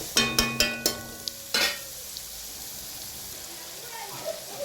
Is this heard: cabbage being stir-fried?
yes